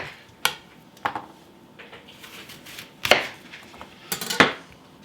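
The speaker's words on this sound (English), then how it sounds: "I'm going to slice it about 1/8 of an inch to 1/4 of an inch thick." A kitchen knife cutting a peeled apple into thin slices on a board, a handful of separate sharp chops and taps spaced irregularly, close and fairly quiet.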